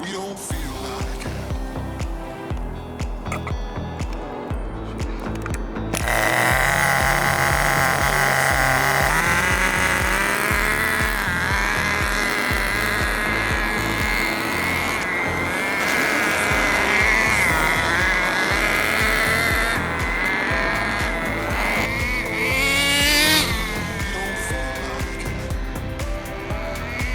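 A nitro-powered FTX Torros RC truck engine runs during break-in, its high, buzzing whine rising and falling in pitch as the throttle is worked, loud and close for the whole stretch.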